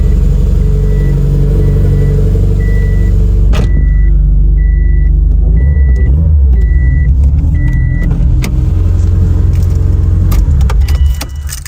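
A Subaru engine idles with a steady low rumble while a chime beeps repeatedly, followed by a couple of clicks and a brief rev near the end.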